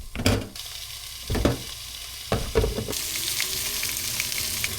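Pork belly fries in oil in a pan, a bright continuous sizzle punctuated by several loud utensil knocks and scrapes, the hiss swelling louder toward the end, close by.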